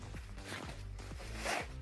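A zipper on a motorcycle jacket's winter lining is pulled in several quick, close strokes, each a short rasping zip, quiet and alone.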